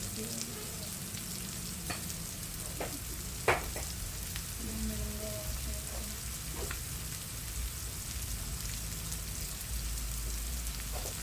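Anchovies frying in a pan on a home stovetop, a steady soft sizzle and crackle with occasional louder pops and clinks of utensils, heard alone without speech.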